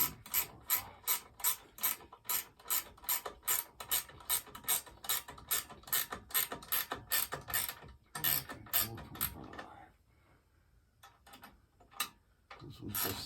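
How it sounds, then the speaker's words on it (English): A ratchet wrench turning a bolt on a Schwinn elliptical drive, with rapid rhythmic clicking in steady bursts for about eight seconds, then pauses and a few scattered clicks, close and clear with no talk. "Run the wrench the right way."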